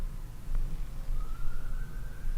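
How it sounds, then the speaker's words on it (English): Police car sirens wail in the background, one faint rising siren tone emerging partway through over a low, rumbling ambient noise bed. "Now we got police engines, police cars in the background as well."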